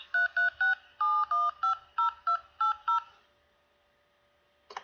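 Telephone keypad DTMF tones punching in a phone number at an automated voice-message prompt: ten crisp, evenly paced beeps in a quick run, then silence and a faint click.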